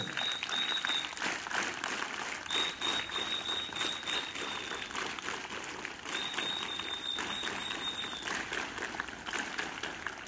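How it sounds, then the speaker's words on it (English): Sustained audience applause at a teachers' ceremony with science officials present, a dense even wash of clapping for the full length, with a faint high whistle-like tone recurring in the background. "Extraordinary applause, honor, homage to my teaching family."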